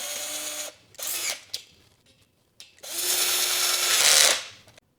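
A power drill drives M1 screws into an Allewie bed frame during assembly, with two short whirring bursts followed by a longer, louder run that builds and then stops, close by with pauses between.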